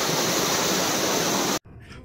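Loud, steady rush of a waterfall at a school picnic spot, a continuous broadband roar that cuts off abruptly near the end, leaving a quieter outdoor background.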